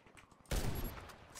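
Gunfire in the online shooter Warface, a loud burst of shots breaking in at close range after a quieter stretch and trailing off, with some faint game noise before it.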